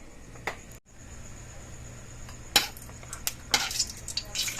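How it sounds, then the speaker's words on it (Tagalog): Onion, garlic and ginger sautéing in a little oil: a soft sizzle runs underneath while a utensil scrapes and clatters against the pan in irregular bursts, close and fairly loud. "po magisa itong ating sibuyas at bawang at luya"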